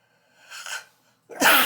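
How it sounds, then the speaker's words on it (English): A single close, loud sneeze bursts out at the end, preceded by a softer breathy intake. "I'm going to sneeze."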